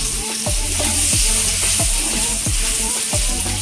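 Fish sizzles steadily in hot oil in a pan, a continuous loud crackling fry for Jamaican steam fish, with periodic low thumps and scrapes as the pan or fish is shifted; no one speaks.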